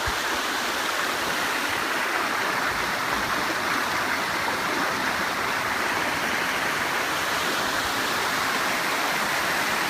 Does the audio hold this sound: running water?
yes